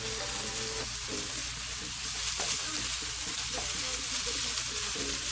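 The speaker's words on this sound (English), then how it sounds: "We're just going to let this cook for another 2 to 3 minutes so the garlic can cook." Garlic and a little butter sizzle with asparagus in a hot pan, a steady, close frying hiss that carries on evenly throughout, with faint stirring noises underneath.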